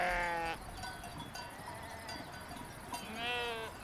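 Sheep bleating on an alpine summer pasture, a couple of wavering calls at the start and end with quieter open-air background between, fairly close and moderately loud.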